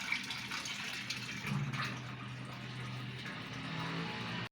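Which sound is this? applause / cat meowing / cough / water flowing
water flowing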